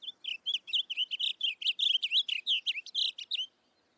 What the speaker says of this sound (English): fields like Antietam are filled with the songs of blue grosbeaks,